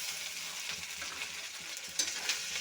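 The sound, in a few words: frying onion paste and ginger in pan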